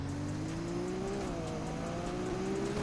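A Nissan R34 Skyline with a turbo accelerates in the Roblox game Greenville, its engine tone climbing steadily in pitch as it revs up, loud and close and heard alone.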